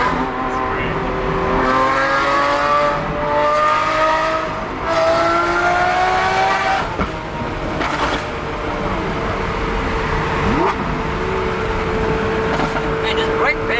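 Lamborghini Aventador SVJ V12 revving from inside the cabin, a loud sustained engine note rising and falling through gear changes, with people talking over it.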